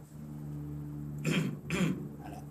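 Two short, harsh throat-clearing bursts about half a second apart, close and fairly loud, over a faint steady hum.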